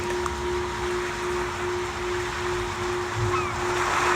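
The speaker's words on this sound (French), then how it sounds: "Le bruit des vagues qui vous berce et vous apaise" Ocean waves on a beach make a steady, broad wash of surf with a constant low hum running underneath and no clear breaks, filling the whole stretch evenly.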